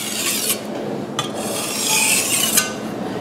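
Chinese vegetable cleaver drawn across an abrasive sharpening stone, close, raspy grinding strokes in a few long passes with brief pauses between them.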